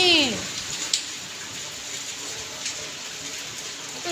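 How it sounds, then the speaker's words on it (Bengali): Steady rain falls outdoors on a cool morning as a continuous soft hiss with scattered droplet ticks, and a brief high voice sounds near the start. "দেখো বৃষ্টি হচ্ছে বৃষ্টি"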